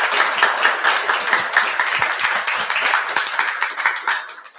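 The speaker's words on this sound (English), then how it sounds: "I want to give you a huge round of applause for sharing all of" An audience claps steadily in a sustained burst, many hands close and fairly loud with an uneven patter that thins slightly toward the end.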